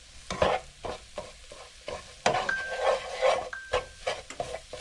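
Flour cooks in a frying pan, a soft sizzle broken by repeated scraping strokes of a utensil stirring it in an uneven rhythm, close and fairly quiet.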